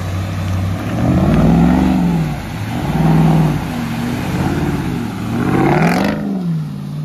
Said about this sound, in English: Coming around for another run through the pond just because it was fun.